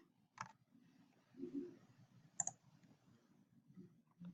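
A few sparse, soft clicks from a computer keyboard, spaced irregularly and faint, with quiet room noise between them.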